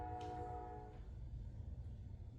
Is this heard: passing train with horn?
yes